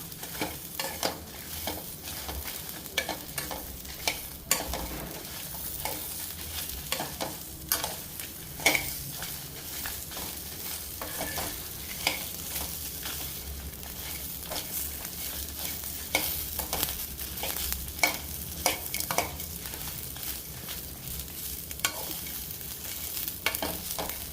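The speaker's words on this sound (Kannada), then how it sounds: "ಈಗ ಬ್ಯಾಡಗೆ ಮೆಣಸಿನ್ಕಾಯಿ, ಗುಂಟೂರು ಮೆಣಸಿನ್ಕಾಯಿ ಮೀಡಿಯಮ್ ಫ್ಲೇಮಲ್ಲಿ" Byadgi and Guntur red chillies dry-roasting in a pan over a medium flame, with a soft continuous hiss beneath a long run of irregular scraping and stirring clicks, close and fairly quiet.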